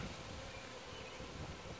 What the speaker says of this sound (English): A lot of bees still in the air.